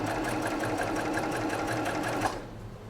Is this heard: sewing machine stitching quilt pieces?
yes